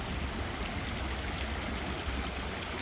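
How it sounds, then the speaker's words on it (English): Shallow stream water bubbling and splashing over rocks in a riffle, a steady close rushing wash with no pauses and no voices. "the riffle is going to be an area like this, where the water is bubbling over rocks, mixing with the air"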